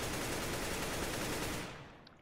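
AK rifle spray firing in the video game CSGO, a loud rapid continuous burst that cuts off abruptly near the end, no voices.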